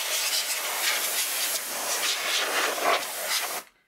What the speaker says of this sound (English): Oh, it's a bit dusty, so let's grab some compressed air